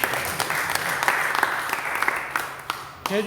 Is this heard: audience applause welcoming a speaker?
yes